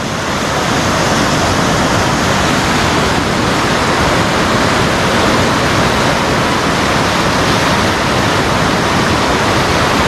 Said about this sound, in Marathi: म्हणजे नदी बघा आता आता प्रवाह अजून वाढला आहे बघा